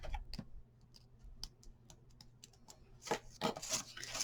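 Pieces being rubbed onto a paper craft mini album: soft, faint scratchy rubbing and small ticks of paper, growing into a louder brisk burst of friction near the end.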